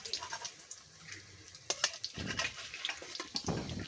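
Shiuli leaf chops coated in besan batter frying in hot oil, a soft crackling sizzle with scattered pops and spatter bursts, plus a few clinks of a spatula against the pan.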